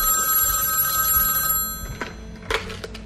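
A telephone bell rings loudly and steadily for about a second and a half, then stops, followed by a few scattered clicks and knocks in a quiet room.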